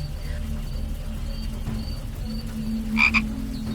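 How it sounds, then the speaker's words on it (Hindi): Frogs croak at night in a horror animation scene, a faint distant chorus with a brief louder burst of croaks near the end, set over a low background hum. "सिर्फ दूर से मेंढकों की टर और बारिश की बूंदों की आवाज"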